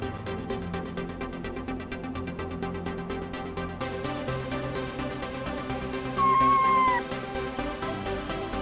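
A cat's drawn-out meow rises clearly over a steady, loud background of music or game sound, heard once and briefly near the end.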